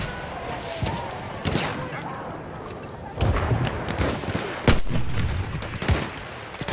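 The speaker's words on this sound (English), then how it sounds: "You hear that big thud going? That is my cannon." A cannon fires in the video game Battlefield 1 during multiplayer combat, with repeated heavy booming thuds at irregular intervals among scattered gunfire, loud and close, and a voice speaking at times.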